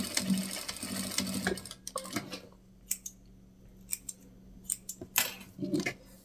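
A sewing machine backstitches a small strap, stitching in short bursts over a steady low motor hum, then pausing between quieter clicks and mechanical taps, all fairly close and faint.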